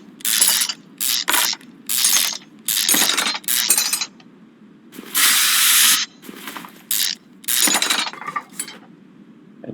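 Ratchet wrench clicking in rapid bursts while removing the crankshaft pulley in the Car Mechanic Simulator 2021 game, with around ten loud, close ratcheting spurts separated by short pauses and no talk.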